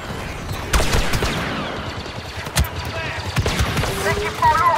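Star Wars Battlefront 2 blaster fire on Theed fighting the Empire, with dense, rapid volleys of shots and impacts over loud battle noise, and French-speaking voices talking over the fighting.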